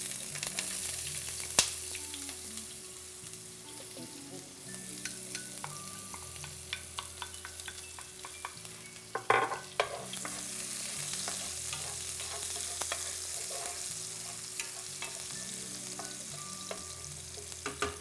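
Onion frying with cardamom for a beef stew crackles in a hot pot, steady sizzle with recurring spoon-stirring scrapes and occasional sharper clinks, close and continuous.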